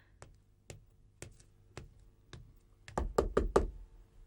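Knocks on a door: four spaced single raps, then a quicker, louder cluster of four knocks near the end, close and clear with no talking.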